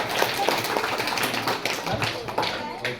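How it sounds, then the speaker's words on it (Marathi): A school quiz audience bursts into loud applause, a dense, sustained patter of many hands clapping at once, with voices talking over it. "हा जोरदार टाळ्या."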